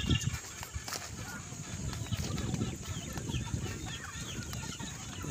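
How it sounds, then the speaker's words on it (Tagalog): Chickens clucking in a small backyard coop, a busy mix of close clucks and rustling, with people talking over them. "Ayan, dito na tayo sa ating munting manukan."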